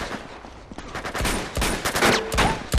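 Gunfire in Uncharted 2 as bullets fly during a fire-escape fight: loud bursts of shots and automatic fire, sparse at first and then dense and rapid in the second half, with no talk over it.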